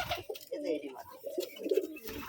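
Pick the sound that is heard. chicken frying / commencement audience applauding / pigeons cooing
pigeons cooing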